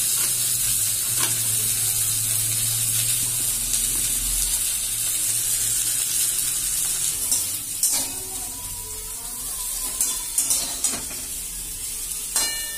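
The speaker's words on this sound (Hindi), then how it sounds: "वो देखिए हमारा जो है फूलगोभी वो फ्राई हो चुका है" Cauliflower frying in a pan over a high flame, a loud continuous sizzle with stirring scrapes and occasional clatters of the pan toward the end.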